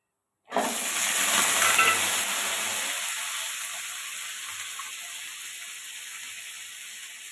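Chopped onions hit hot oil already spiced with cinnamon, cloves, cardamom and fennel for chicken gravy, bursting into a loud, sharp sizzle that settles into a steady, slowly fading hiss, close and alone.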